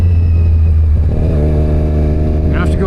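A motorcycle engine revs hard at full throttle while riding through town, a loud, steady drone with rising harmonics that holds for about three seconds, close and dominant throughout.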